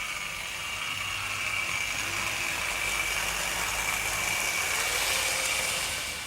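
Tri-ang Dock Shunter model train engine pushing LMS coaches, a steady mechanical whirring and rattling of the small motor and wheels running continuously at a constant level, with no talk.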